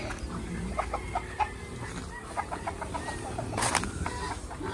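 Chickens clucking as the flock follows a man across a farmyard, soft repeated clucks and short calls scattered through the clip at close to moderate distance, with one louder squawk near the end.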